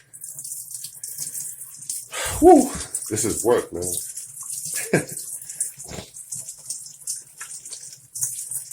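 Water runs from an open faucet on a Krystal Pure KR10 reverse osmosis system while it drains during a filter change. A steady, faint hiss continues throughout beneath a man's nearby speech.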